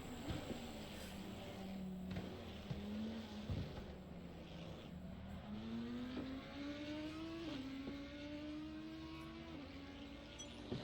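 Racing game cars lapping Spa-Francorchamps, with a steady whining engine drone rising and falling through gear changes and faint overlapping engine notes from other cars, kept at a low level, with no talk over it.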